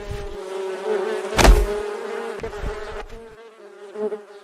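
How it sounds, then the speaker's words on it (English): A steady insect-like buzz of bees from a beehive hums continuously, with a brief louder thump and crackle partway through. "she'll have a surprise of bees attacking her"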